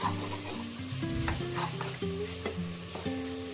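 Boiled potatoes sizzling in a hot pan, with a spoon stirring and scraping against the metal in quick repeated strokes, close and clear, no talking.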